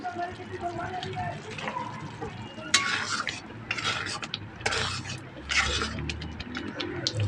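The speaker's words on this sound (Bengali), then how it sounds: "এবার এটাকে আমি ভালো করে ঘেঁটব" Spiced pointed gourd mash, seasoned with black pepper powder and garam masala, is stirred and scraped in a pan, with rhythmic metallic scraping bursts close by while a voice talks over it.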